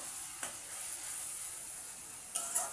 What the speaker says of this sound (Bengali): অল্প একটু জল দিয়ে আমি মশলাটাকে কষিয়ে নেব।